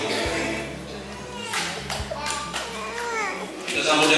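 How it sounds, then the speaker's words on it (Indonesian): A wedding reception crowd claps to welcome the bride and groom, scattered applause mixed with children's voices and chatter, fairly close and busy throughout. "Kita sambut dengan tepuk tangan"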